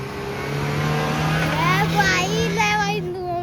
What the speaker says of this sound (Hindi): भाई देखो इंजन में कितनी जान है।